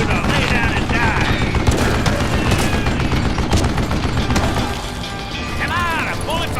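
Gunfire and explosions from dynamite in the Call of Juarez Gunslinger game blast in a dense, continuous barrage, with rattling mechanisms and whistling ricochets layered on top. The racket eases slightly toward the end.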